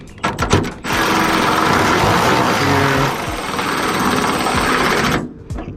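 A power tool tightens the bolt on a carbon fiber hood strut bracket of an 8th-generation car. A few short clicks lead into a loud, steady motor whir lasting about four and a half seconds, then it stops abruptly.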